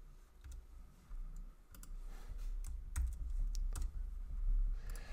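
Fingers tap on a computer keyboard in an irregular run of quiet clicks and keystrokes, close by over a low background hum, with no talking.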